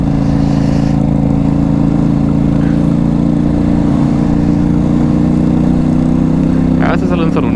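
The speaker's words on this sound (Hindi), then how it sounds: "कितनी प्यारी आवाज़ आई है बाइक की भाई, आवाज़ सुन के मज़ा आ गया।" Motorcycle with an aftermarket silencer exhaust passing on a mountain road, a steady low engine drone running throughout with a rougher burst near the end, fairly loud and close.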